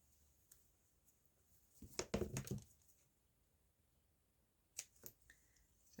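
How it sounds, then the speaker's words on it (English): Scissors snip through a strip of magazine paper stuck with tape, a short burst of crisp, close cutting sounds followed by a couple of softer snips in a very quiet room. "Now your scissors will gum up a bit with the tape, but that's okay."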